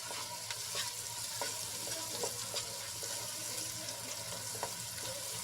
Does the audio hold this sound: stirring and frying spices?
yes